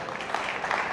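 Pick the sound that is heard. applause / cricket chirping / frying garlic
applause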